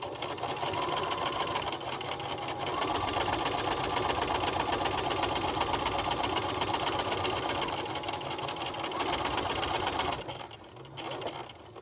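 A sewing machine reverse stitches across the elastic on a fabric mask. Its motor runs as a steady, fast mechanical whir close by for about ten seconds, then stops abruptly and leaves a few faint handling noises.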